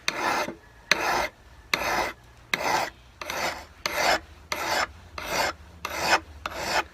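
A hand file rasps across a pruning shears blade in ten evenly spaced strokes, each a rough scraping burst with short pauses between, close and clear with no voices.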